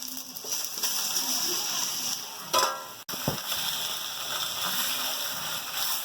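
A batch of about 1.5 kg of washed meat goes into a hot steel kadhai with browned onions and sizzles loudly and steadily, with a brief clatter of stirring midway.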